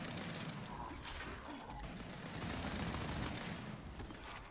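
Rapid gunfire from the Gears 5 video game, faint bursts of automatic shots and mechanical clatter in a continuous barrage.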